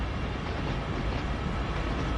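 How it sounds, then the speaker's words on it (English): In the Train Sim World 2 game on its Cane Creek route, two trains pass with a steady, dense rumble of wheels and engines that stays even throughout, with no voices. "Here come the trains."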